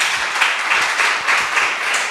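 A conference audience at a Joomla event claps hands together, a moderate, even wash of applause from a crowd in a hall, without speech on top.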